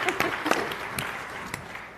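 Scattered, uneven claps from a conference audience at a state governor's gathering, a few sharper hand strikes standing out over a steady murmur of room noise.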